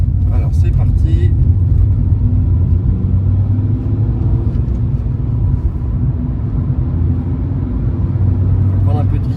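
A Fiat 500 drives along with a loud, steady engine rumble and road noise inside the cabin, holding a low droning tone as it gathers speed, with faint voices underneath.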